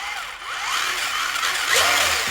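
Electric RC rally car motor revs in a rising whine, sweeping up and down through a short burst, fairly loud and close, with no talking over it.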